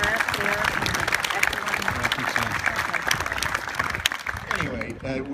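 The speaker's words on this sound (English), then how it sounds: "give him a round of applause" Outdoor audience applauds for Brett Elkins, a dense round of clapping with scattered sharp individual claps, close and steady, fading slightly toward the end.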